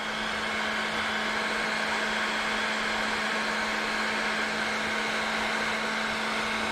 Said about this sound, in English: Then you just take your heat gun